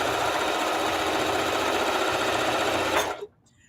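A sewing machine stitches quilt strips in a fast, steady, loud whir that holds for about three seconds and then abruptly stops, leaving near silence.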